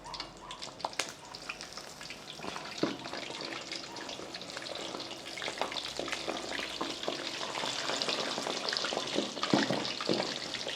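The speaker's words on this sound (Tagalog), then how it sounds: "magpo-proceed na tayo sa pagpipirito ng mga lechong kawali natin o pork belly" Pork belly for lechon kawali fries in hot oil, a continuous crackling sizzle with sharp spattering pops scattered throughout, fairly close and growing slightly busier toward the end.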